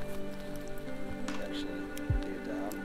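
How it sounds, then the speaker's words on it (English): Steady rain patters and drips close by, a soft continuous wash with occasional louder drops. "it's raining"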